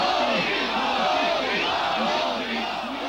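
A large crowd of East German FDJ youth cheers and chants at a march celebrating Gorbachev, a dense, loud roar of voices with rising shouts that repeat in waves throughout.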